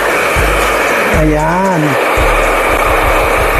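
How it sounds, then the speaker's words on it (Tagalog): A handheld hair blower drying a salon client's freshly rebonded hair before flat-ironing gives a steady, loud whooshing roar throughout, with a person talking briefly over it. "Ang pag-blower ng buhok ng ating client."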